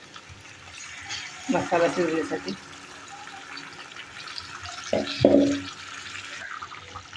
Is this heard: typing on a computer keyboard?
no